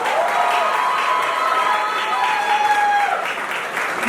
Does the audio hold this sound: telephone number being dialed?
no